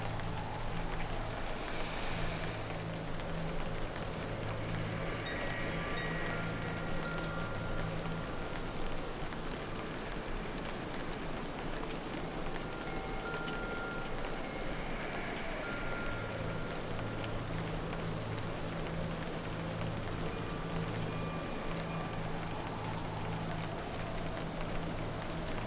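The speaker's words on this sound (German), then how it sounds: "hört nur auf das feine Geräusch, das der Regen auf dem Ballon macht" Steady fine rain patters on the fabric of a hot-air balloon, a soft continuous hiss with a low drone underneath and a few faint tonal swells, with no voices.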